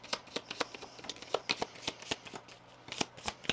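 Oracle cards shuffled by hand in a quick, irregular run of soft riffling slaps and flicks, close and fairly quiet, with no voice over them.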